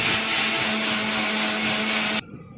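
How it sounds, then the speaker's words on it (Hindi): A kitchen mixer grinder runs at full speed with a loud, steady whirring drone and a constant motor hum, then cuts off abruptly near the end, leaving a quieter room. "भैया मन्नू ने चला दी मिक्सी"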